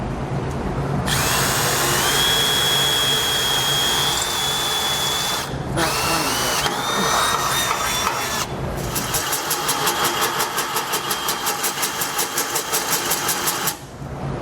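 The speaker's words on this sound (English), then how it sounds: "we're going to want to drill out an 1¼ inch hole right here with a hole saw" A power drill first runs a pilot bit and then a 1¼-inch hole saw through the body of a 2019 Ram 1500 Classic, whining loudly with short pauses and a steady grinding cut near the end.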